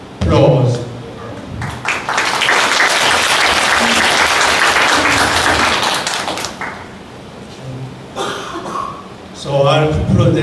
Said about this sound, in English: Would you please give applause?